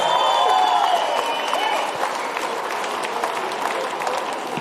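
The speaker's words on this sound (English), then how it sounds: "Can we get another big round of applause for both of these fighters?" Applause and cheering from a fight crowd at a boxing event after a four-round bout, loud and sustained at first and easing slightly, with whistles and voices mixed into the noise.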